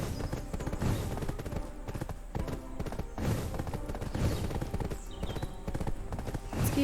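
Hooves clip-clop in a fast, steady rhythm as a horse is ridden in Black Desert Online, the sharp, close impacts running continuously over faint background game sounds.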